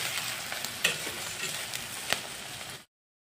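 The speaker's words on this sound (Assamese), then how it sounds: "পিঁয়াজখিনি হেতাটো দি অলপ লৰাই দি আছোঁ।" Three large sliced onions fry in oil for chicken curry, stirred with a spatula: a soft steady sizzle with a couple of distinct scraping clinks, then it cuts to silence.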